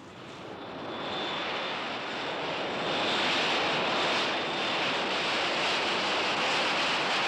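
Steady broadband airliner roar inside the cabin, building slightly and holding loud and even as the aircraft flies on before landing, with a faint high whine above the hum and no talk.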